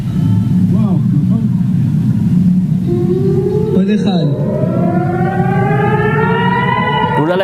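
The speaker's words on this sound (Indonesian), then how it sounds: "Sirine udara diaktifkan di kota Dimona, Beersheba, dan Eilat." Air raid siren sounding in southern Israel, a loud wailing tone that rises in pitch and holds steady over a constant low rumble, with voices faintly mixed underneath.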